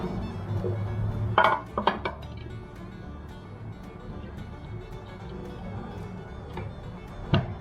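Thin raw potato slices laid into a square glass baking dish make a few soft clinks and taps close by, then quiet handling noise, with a voice briefly in the background.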